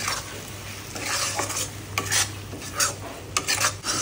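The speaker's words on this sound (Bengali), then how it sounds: "এবার কিন্তু মশলাটা ভালো করে কষাবো।" Spice masala with salt and Kashmiri chilli powder being stirred and fried in a pan, repeated scraping and rubbing strokes of a spatula over a continuous sizzle, close and fairly loud, no talking.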